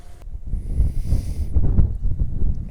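Strong wind buffets a Mavic Pro drone in flight, making a continuous low, gusting rumble that swells and dips throughout, with no talk.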